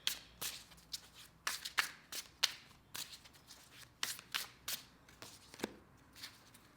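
Tarot cards are shuffled by hand in a quiet room, a series of crisp riffling bursts and soft slaps coming in quick irregular clusters, close and fairly faint, with no talking.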